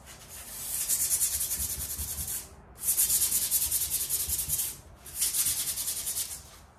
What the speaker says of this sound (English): I'm just gonna take the sandpaper, lightly sand